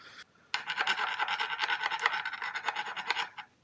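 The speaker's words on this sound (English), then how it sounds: "So I just filed down this little lip on the side of the bushing." Hand file rasping down the lip of a metal bushing from a Solex 1400 moped cylinder, a continuous run of quick, even strokes, close and fairly loud, following a short scrape and a pause.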